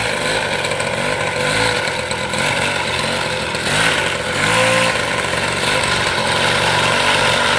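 A motorcycle engine runs loud and close, rumbling unevenly with a few blips of revving over a continuous mechanical roar.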